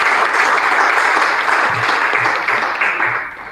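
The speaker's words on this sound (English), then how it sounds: "let's give them a round of applause" A debate audience applauds the speakers in a steady, loud wash of many hands that thins slightly toward the end.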